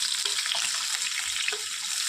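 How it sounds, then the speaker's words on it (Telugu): Mustard seeds frying in hot oil, six spoonfuls added to two spoons of oil for a ridge gourd curry, producing a steady close hiss and sizzle with small crackles, then stopping abruptly. "నూనె కాగిన తర్వాత ఒక 6 స్పూన్లు ఆవాలు వేసుకున్నాను."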